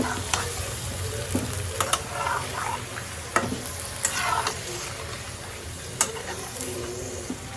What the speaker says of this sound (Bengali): মাংসতে আদা রসুন লবণ দিলাম এখন ভাজবো